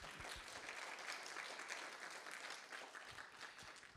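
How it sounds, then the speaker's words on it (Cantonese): Audience applause greeting a guest ophthalmology professor at a distinguished lecture, a steady wash of clapping at moderate level that holds for the full few seconds with no voice over it. "我哋俾少少掌聲佢先好嘛？"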